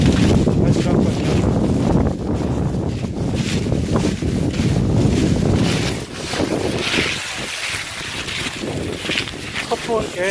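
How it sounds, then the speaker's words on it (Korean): Wind buffeting the microphone on a mountain ridge trail during a long hike, a loud rumbling roar that eases slightly partway through, with brief rustles near the end. "시원하게 바람 불어주고요."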